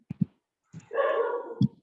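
A dog gives one drawn-out bark or yelp in the background, bracketed by short thuds and clicks, during an online Onam fellowship quiz for a Rotary club.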